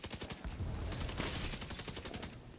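Rapid automatic rifle fire from an assault-rifle build in a The Division 2 PvP match, with dense, continuous bursts of shots that stay loud and close throughout.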